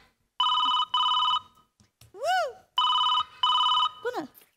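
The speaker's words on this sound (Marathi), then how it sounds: "मामाजीचा फोन आला. उचल." A telephone rings in two-tone electronic bursts, two pairs of trills separated by sliding whistle-like tones, clear and close on a comedy stage, with no talk over the rings.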